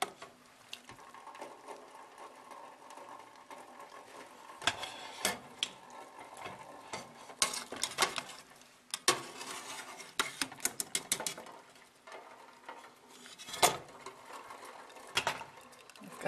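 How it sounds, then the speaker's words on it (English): Turkey bones and scraps being lifted out of a pot of simple turkey and rice soup with kitchen utensils, giving close, irregular clinks, scrapes and clatters that cluster into brief busy bursts between quieter stretches, with no talking. "it's time to remove the bones and everything from the pot"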